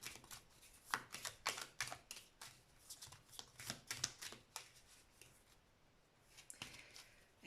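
A deck of tarot cards being shuffled, close and quiet, in a rapid series of riffling flutters and soft slaps that pause briefly near the end.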